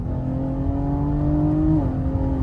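BMW X3M Competition tuned to Stage 1, about 600 hp and 800 Nm, accelerating hard off a launch-control start, with a loud steady engine drone whose pitch climbs evenly and then drops briefly at a gear change.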